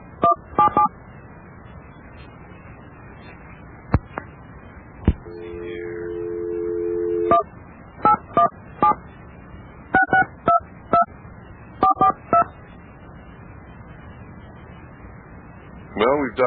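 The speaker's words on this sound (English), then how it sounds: "Well, we've dialed the number." Telephone keypad DTMF tones dialed on a line in 1993, short paired beeps in irregular clusters, with a longer steady tone partway through and faint line hum underneath.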